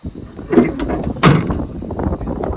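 A car door on a 1964 Chevrolet Biscayne swings and shuts with a muffled thud, followed by a louder clunk about a second later, with a low engine rumble running underneath throughout.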